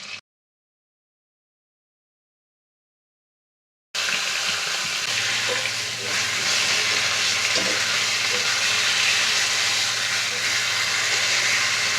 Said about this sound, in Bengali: আমি লোহার কড়াইতে মাছগুলো ভেজে নিচ্ছি।